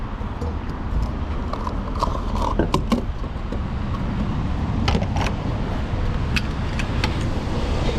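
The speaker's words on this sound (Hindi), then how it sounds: "तो गाड़ी में पेट्रोल डलाते हैं।" Petrol flows into a car's tank at a Shell fuel station. It comes as a steady broadband hiss and rumble with occasional faint creaks and clicks, with no talking.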